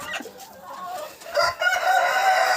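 A hen clucking and fussing close by while her eggs are collected, short agitated calls that build into louder, sustained squawking toward the end.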